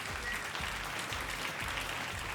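Audience applause for Shushan and Saro at the final competition round of a televised star duet show, a dense, steady burst of clapping from a large crowd, sustained and loud throughout.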